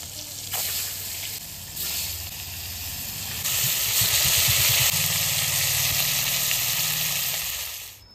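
Tuna fish fries in hot oil in a home kitchen pan, the close, loud sizzle swelling in stages as pieces are turned or added, with a brief low rumble partway through and a fade at the end, no voices.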